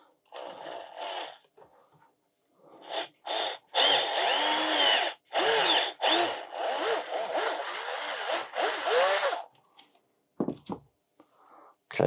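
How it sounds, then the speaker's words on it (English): A power drill whines in several bursts, its motor pitch rising and falling as it bites into 3D-printed aluminium, with brief stops between runs. "let's try and drill this that you guys can see"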